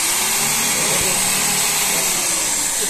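An electric hammer drill switched to drilling mode runs with a steady, continuous motor whir and broadband hiss that holds at a constant loud level for the whole stretch.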